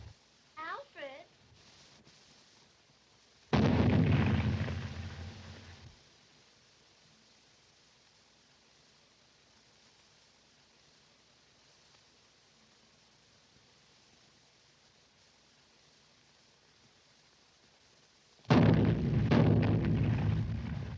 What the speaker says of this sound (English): Do you hear those cannons?